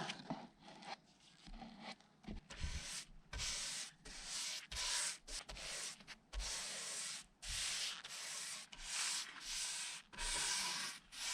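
A cloth rubs oil into a wooden shelf in long, repeated broad strokes with short pauses between passes, steady and close, with no talking.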